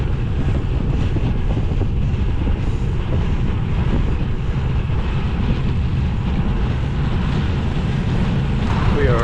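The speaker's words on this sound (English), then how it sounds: "Trying to tuck out of the wind." Strong wind roars and buffets the microphone during a bicycle tour through central North Carolina, a loud continuous low rumble that persists without a break.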